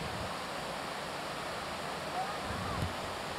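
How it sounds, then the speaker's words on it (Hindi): A small mountain waterfall in Uttarakhand gives off a constant broadband rush at moderate level. The sound stays steady throughout, and faint incidental sounds can be heard under it. "ये था झरना"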